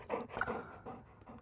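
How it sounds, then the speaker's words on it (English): A dog pants close to the microphone, quiet and steady, in several quick breaths with a faint whimpery edge and no talking. "that's good old Watson panting"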